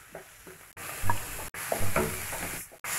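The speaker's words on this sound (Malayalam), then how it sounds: "ഇതിലേക്ക് സവാള നന്നായി വഴറ്റി എടുക്കുക. ഇതിലേക്ക് ക്യാരറ്റ് ആഡ് ചെയ്യുക." Onion and carrot sauté in a hot pan with oil, a soft sizzle under brisk scraping stir strokes, close up, broken by a few abrupt cuts.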